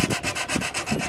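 Sandpaper worked by hand back and forth along a G10 handle on a Japanese 1060 steel wakizashi sword, giving close, rhythmic rasping strokes in a steady cycle of about a dozen passes, with no voices.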